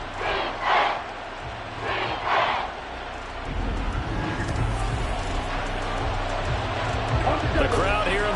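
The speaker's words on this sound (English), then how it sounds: "The crowd here in the Dome making things difficult" Football crowd roaring inside a domed stadium during a third-and-goal play, a steady loud mass of cheering and noise that swells and holds throughout, with a commentator talking over it early on.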